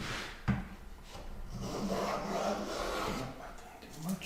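A hand plane pulls a fairly heavy shaving off a board held by bench stops, giving a close, dry wooden rasp that starts with a sharp knock and runs in a steady drawn-out stroke, with little or no talk.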